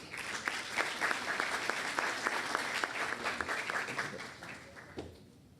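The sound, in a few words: audience applause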